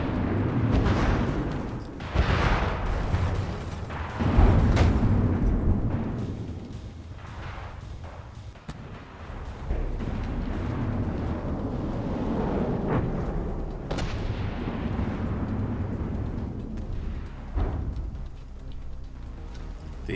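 Warship anti-aircraft emplacements in a naval video game battle fire continuously, a dense rumble of thuds and booms with sharp bursts scattered throughout, loud and sustained with no clear pause.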